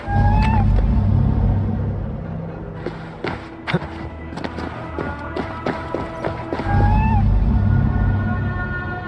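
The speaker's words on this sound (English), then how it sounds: "Who put you up here, little cat?" A cat meows a few times inside the video game Assassin's Creed Valhalla, heard over a low game ambience with scattered footsteps and clattering movement in between.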